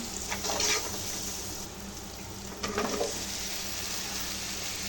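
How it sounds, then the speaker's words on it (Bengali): Okra (bhindi) fries in a pan with a constant soft sizzling hiss. Two short bursts of stirring rise out of it, and nobody speaks. "সাথে ভেন্ডি ভাজি করতেছি"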